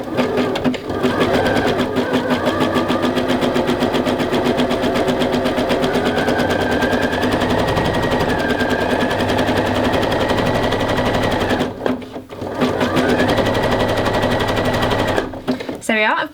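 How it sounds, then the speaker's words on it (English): A sewing machine stitches fold-over elastic onto a waist opening with a fast, continuous, close mechanical rattle that runs throughout, broken by brief pauses near the end. "then I'm just going to sew along the edge"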